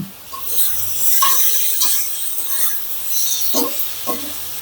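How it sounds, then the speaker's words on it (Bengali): Potatoes and okra are stirred in a pan of hot oil, with close scraping strokes of a spoon over a soft, steady sizzle. "এই অবস্থায় আমি আলু এবং ঢেঁড়সটা ঢেলে দিচ্ছি। এবার এটার সাথে মিশিয়ে নিচ্ছি।"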